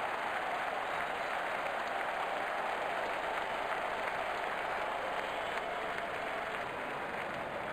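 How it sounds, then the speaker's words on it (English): Crowd applause in a cricket video game, a steady, even wash of clapping and cheering at moderate level, continuous throughout with no voices on top. "Good to see the crowd getting involved."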